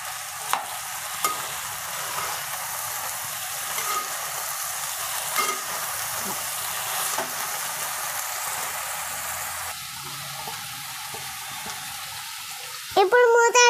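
Fenugreek leaves sizzle in a pan of capsicum curry as they are stirred, a steady close frying hiss broken by soft scraping strokes, ending in a brief clatter.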